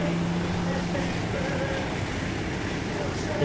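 Navy hovercraft thunder past a sailboat out on open water, a steady, loud broadband roar with a low engine drone and rushing wind, sustained without break and near enough to fill the whole scene.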